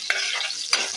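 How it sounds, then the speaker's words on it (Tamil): Onions and curry leaves fry in a pan with a steady, close hiss of sizzling oil, marked by two brief louder bursts as they are stirred. "வெங்காயம் நல்லா வதங்குது."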